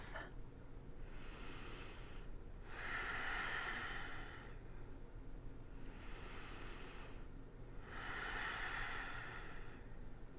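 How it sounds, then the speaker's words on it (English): Slow, natural breathing in a yoga stretch, drawn into the side body: two long soft inhale-exhale cycles, close and gentle, with steady low background noise. "Breathe into your side body with your natural breath."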